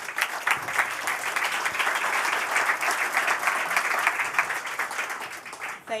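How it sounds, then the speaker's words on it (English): A conference audience at a London climate action summit gives a round of applause, many hands clapping in a dense, steady patter that holds strong and eases slightly at the very end. "Please give her a round of applause."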